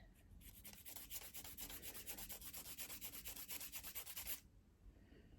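A sculpted gel nail being filed with steady, rapid back-and-forth strokes, a close, even scratchy rasping that runs for about four seconds before stopping, with no talking.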